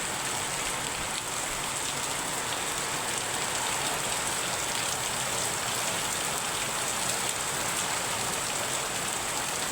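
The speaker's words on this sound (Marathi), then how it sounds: "बाहेर पाऊस सुरू आहे, हे बघा तुम्हाला दिसत असेल।" Rain falls steadily outdoors as an even, unbroken hiss of drops on surfaces, moderately loud and constant from start to finish with no talk.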